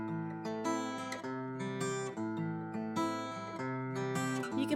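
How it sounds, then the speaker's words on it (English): An acoustic guitar played alone with no voice, a gentle run of picked and strummed chords at a quiet, even level, close up. "So this is a little bit of how my guitar sounds by itself."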